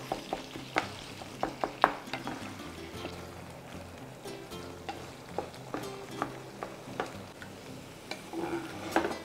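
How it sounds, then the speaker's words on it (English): Ground beef sizzling and frying in a pan while being stirred, with steady crackle and repeated scraping clacks of a utensil against the pan, close and fairly loud, no talking. "So now I'm just going to move it around until it loses all its pink color"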